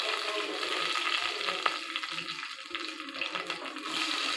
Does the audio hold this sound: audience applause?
no